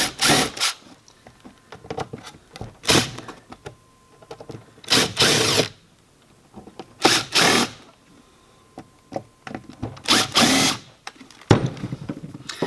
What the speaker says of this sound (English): So what you want to do is take these screws off, and they're self-tapping screws. So we're going to back those all the way out.